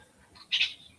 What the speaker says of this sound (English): Oh, that wattle bird's being noisy.